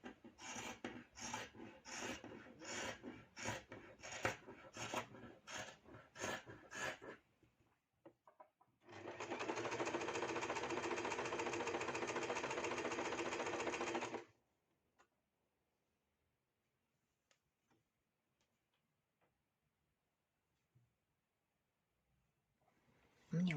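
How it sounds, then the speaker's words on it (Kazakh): A sewing machine runs a zigzag stitch around a shortened dress hem. It starts with a rapid series of close, loud stitching bursts, then settles into one steady whirring run of about five seconds before falling quiet. "міне осылай зигзагпен айналдырып тігіп алдық"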